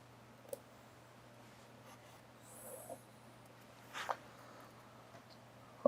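Marker or chalk strokes from drawing a graph during a lecture on the Butler-Volmer equation, a few faint scratchy bursts spread over a quiet room with a steady low hum.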